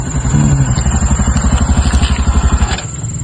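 A newly bought motorbike pulls up with a loud, close engine. Its steady pulsing putter is heard alone, with no talk.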